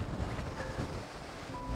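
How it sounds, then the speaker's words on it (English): Wind buffets the microphone on a riverbank during a fishing session, a loud, rumbling, continuous roar with no talking. "Wind's causing us a lot of problems today"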